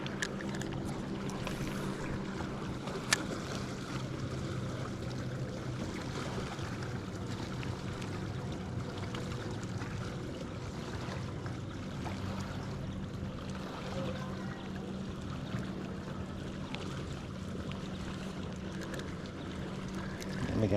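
A fishing boat cruising along a lake causeway, a steady low hum with watery wash, faint and continuous with no talking.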